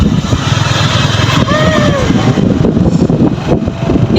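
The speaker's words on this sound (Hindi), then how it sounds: "तो वो अरुण जोरे बाइक में चढ़ रहे और हमार वीडियो कर रहे और हमरा साथ रेस लगा रहे कहू।" A motorbike engine hums steadily close by while riding alongside others during a race, a continuous loud drone with passing wind noise and a few brief tonal whines.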